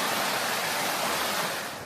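Second waterfall on an icy winter stream in Pennsylvania, a steady broadband rush of falling water that stays loud and continuous throughout, easing only slightly at the very end, with no voices.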